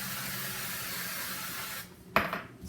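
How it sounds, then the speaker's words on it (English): A spray bottle mists over a bowl of popcorn with a close, steady hiss that lasts about two seconds and then cuts off, followed by a brief sharp clatter. "So there's my first spray, and I go over it with a salt shaker and mix it up."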